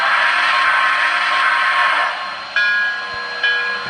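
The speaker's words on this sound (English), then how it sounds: "you hit the whistle real quick" MTH NYC 2-8-0 H-9 Consolidation model steam locomotive sounding its whistle, a loud sustained tonal blast followed by two short toots over a faint running hum, no talk.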